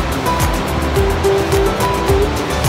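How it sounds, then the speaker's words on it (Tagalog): A strong river current roars steadily and close, a dense broadband wash with a low rumble underneath and no voices. "Ang lakas ng agos. Naririnig nyo ba? Yan yung agos niya."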